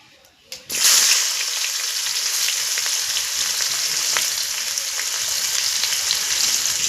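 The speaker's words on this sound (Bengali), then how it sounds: "পেঁয়াজটা অল্প ভেজে দিতে হবে, তারপর আলুগুলো দিতে হবে" Onions and potatoes frying in oil with whole cumin and dried chilli, a loud continuous sizzle that bursts in after a quiet moment and holds steady, with faint stirring.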